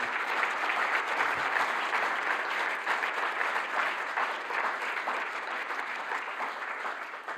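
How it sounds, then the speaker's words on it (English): Sustained audience applause at the closing plenary of a symposium, a dense, even roar of many hands clapping continuously and fairly loud, with no talk over it. "Massive applause for Ute."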